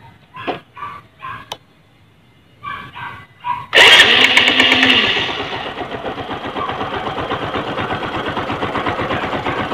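A Kawasaki LS 135 motorcycle gives a few short sputtering bursts, then catches with a loud rev and settles into a steady, rapid idling putter that continues to the end.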